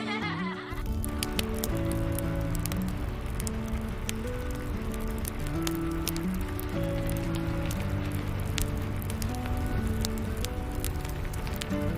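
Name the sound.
rain falling, cozy rainy day ambience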